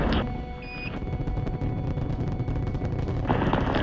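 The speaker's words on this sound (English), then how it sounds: "Liftoff on Apollo 11." Apollo 11's Saturn V rocket at liftoff, a dense, continuous low rumbling roar with crackling texture that holds steady and loud throughout, with no voices over it.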